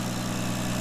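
A Toyota Supra engine runs steadily just after its first start-up following a long build, with moisture in the exhaust, giving a loud, close, even idle rumble with no pauses.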